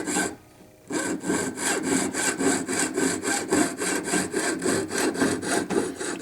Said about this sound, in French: avoir la certitude que la scie scie et fasse disparaître le trait